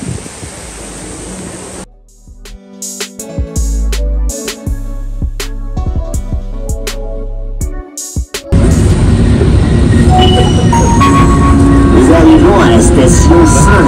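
A Paris metro train at a station produces a loud, broad roar that suddenly surges and then holds steady, after a quieter stretch of clanks and rattles.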